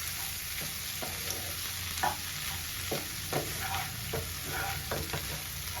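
A spoon stirs bassaru with cooked beans in a pot, giving soft scraping and sloshing strokes at an irregular pace over a quiet background sizzle, up close and with no talking.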